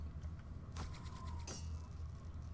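A ladder is knocked down in a ninja video game, giving a faint mechanical creak and clatter of rattling knocks, with a short scraping slide, over a low steady background hum.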